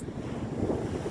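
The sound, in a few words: wind blowing at the beach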